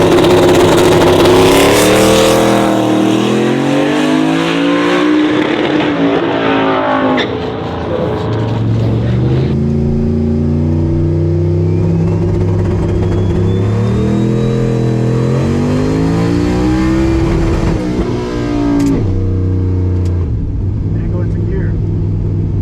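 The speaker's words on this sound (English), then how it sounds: "Now this is a full-size street truck." A full-size street truck launches at a drag strip and stays stuck in first gear, its engine screaming upward in pitch, dropping back and climbing again in long, loud revving sweeps close to the microphone.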